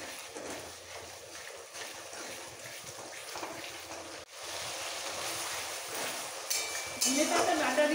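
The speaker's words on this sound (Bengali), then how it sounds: "ধনেপাতা বাটা দিয়েও কষানো হয়ে গেছে।" Fish masala with coriander paste sautéing and being stirred in a pan for a small-fish jhal curry, a steady close sizzle and scraping that grows louder near the end.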